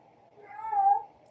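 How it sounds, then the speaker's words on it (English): A house cat lets out a single drawn-out meow, fairly close and clear, rising and fading over about a second with no talking around it. "My cat's like going meow, meow."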